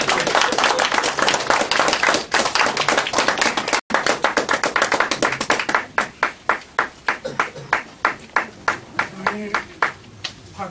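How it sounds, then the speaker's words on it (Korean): An audience greets a speaker with hands clapping, dense and continuous at first, then thinning into slower, separate claps that fade toward the end. "나오실 때 열화와 같은 박수로 맞이해 주시기 바랍니다"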